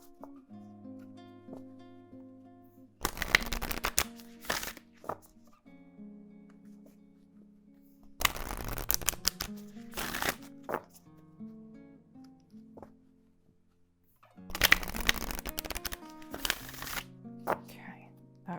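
Tarot cards being shuffled in three bursts of riffling and flicking, close and crisp, with faint tonal background music between bursts.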